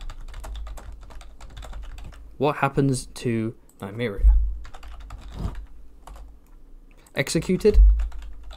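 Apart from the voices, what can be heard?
typing on a computer keyboard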